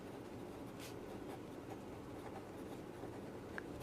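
Chalk or marker writing on a board while working a determinant: faint, scattered scratchy strokes and small taps over a low steady room hum, quiet and without talking.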